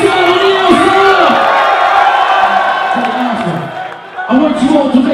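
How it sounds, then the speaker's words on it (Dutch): Party crowd at a Jumpmatic event in Maaseik cheers, whoops and applauds loudly and close, with shouting voices over the roar before a brief dip and a fresh burst of cheering. "Gewoon een applaus voor Tristan en Nieuwstar."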